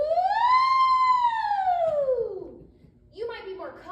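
A singer's voice imitates a siren, one sustained "ooh" sliding up in pitch, holding, then falling away, clear and close, followed by a brief spoken voice.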